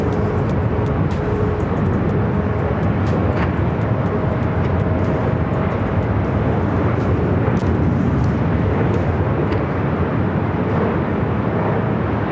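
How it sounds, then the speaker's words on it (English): Boeing 777-300ER on a north-side takeoff roll at LAX, bound for Manila, giving a steady, loud broadband jet roar that holds without letup, with no voices over it. "The 777 at 300ER heading up here for a north side takeoff."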